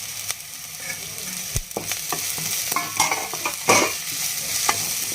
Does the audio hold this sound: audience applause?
no